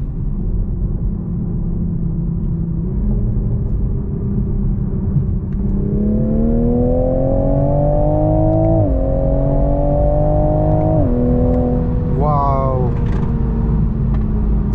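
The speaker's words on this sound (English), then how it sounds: "Let's do a third gear pull." A 2022 Toyota Supra GR pulls hard through third gear, its engine note climbing steadily in pitch and loudness over a constant road rumble before easing off near the end, with a voice talking briefly.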